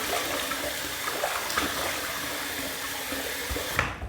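Tap water runs steadily into a bathroom sink before a shave, a continuous splashing stream close by that cuts off near the end.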